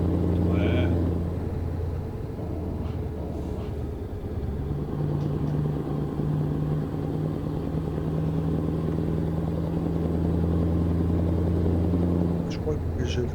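A 3000-horsepower truck engine in Euro Truck Simulator drones steadily, a low continuous rumble that shifts pitch slightly partway through, with faint voices underneath.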